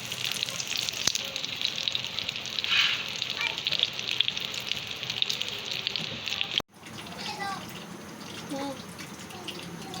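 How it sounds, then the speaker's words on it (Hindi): Frozen shami kebabs and fries frying in hot oil give a dense, steady sizzle with faint crackles, cut by a sharp break partway through before the frying resumes a little quieter. "और ये शामी बना के फ्रीज़ की हुई थी, और अब ये फ्राई करने लगी हूँ।"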